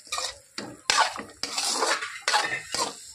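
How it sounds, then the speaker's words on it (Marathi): Paneer is sautéed and stirred in a masala gravy for veg dum biryani, with loud bursts of metal spoon scraping and clattering against the pot in uneven strokes, close up with no speech. "पनीर छान या मसाल्यामध्ये परतून घ्यायचं"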